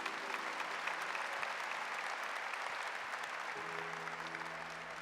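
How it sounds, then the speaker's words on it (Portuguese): Sustained applause from a church congregation praising the word of God after a Catholic Gospel reading, steady and full throughout, fading slightly toward the end. "Vamos aplaudir a palavra de Deus"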